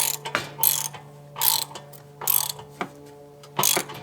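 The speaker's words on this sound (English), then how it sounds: "Take your handy dandy socket wrench" A socket wrench ratchets a fitting snug on an RV plumbing line, with short bursts of clicking pawl strokes repeated in a loose rhythm between brief pauses, close up and with no speech.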